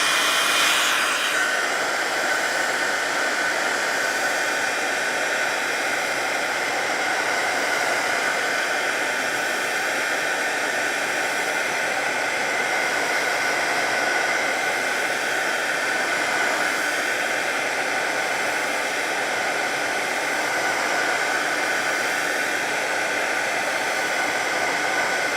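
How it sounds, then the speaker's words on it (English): Craft heat tool blowing hot air to dry paint on a project, a loud, close, continuous whooshing roar that holds steady throughout with no talk. "Maybe I'm gonna hit with my heat tool and just try not to get other areas."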